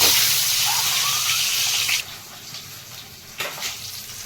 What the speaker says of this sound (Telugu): గుడ్లు వేయించడం కోసం కొంచెం పసుపు వేసుకుందాం, కొంచెం సాల్ట్.